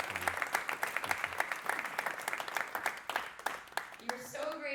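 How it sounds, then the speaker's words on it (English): An audience at a tech talk in Tel Aviv gives a round of applause, lively clapping with distinct sharp claps that thins near the end as a voice begins speaking. "Can we have a round of applause for this?"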